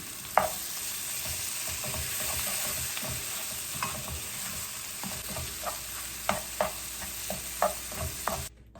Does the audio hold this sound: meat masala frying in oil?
yes